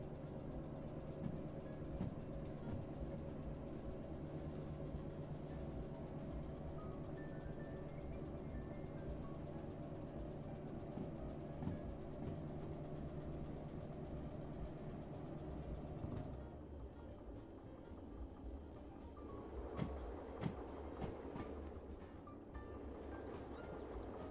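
A train rolling along a track in the railway simulator game Derail Valley, heard as a faint, continuous low rumble and steady hum that shifts to a rougher, more uneven texture partway through.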